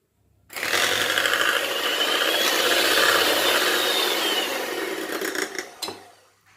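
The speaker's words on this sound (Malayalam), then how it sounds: "അതും കൂടി ഇതിലേക്ക് ഒഴിച്ചിട്ട് ഒന്നും കൂടി ഇതൊന്ന് ബീറ്റ് ചെയ്ത് കൊടുക്കാം." An electric hand beater whirs steadily in a bowl of ice cream mixture with condensed milk, a loud continuous motor drone lasting about five seconds before it winds down and stops.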